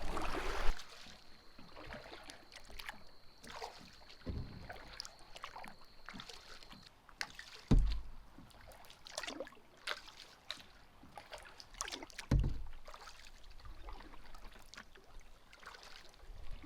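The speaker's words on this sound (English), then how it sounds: "I am canoeing with the current, with a tailwind." Gentle canoe paddle strokes dip and splash in a river's moving water, with soft trickling and a few sharper knocks against the hull, out in open air on a windy day.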